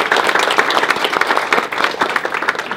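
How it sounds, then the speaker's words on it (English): Audience applause at a spring university capstone games showcase, a dense burst of many hands clapping at once, loud and sustained throughout with no voices over it. "So please give them a big round of applause."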